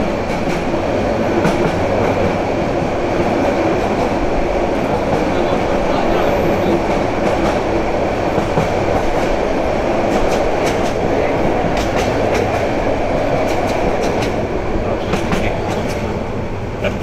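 The Turna Express night train runs on the Dhaka–Chattogram line with a loud, continuous rumble and rhythmic clatter of wheels on rails, sustained throughout at close range.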